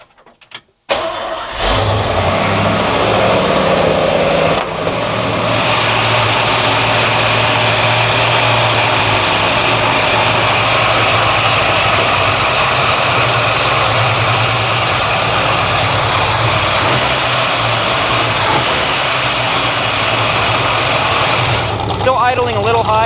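An old Ford farm vehicle engine that sat for years idles steadily after a timing adjustment, loud and close, running slightly high but smooth for over twenty seconds after starting, with someone speaking over it.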